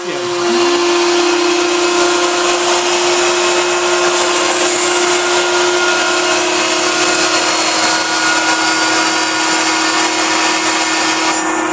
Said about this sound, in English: So we're going to turn the vacuum on.